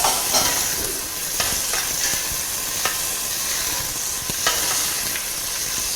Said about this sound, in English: adding the onion and the green chilies to the spice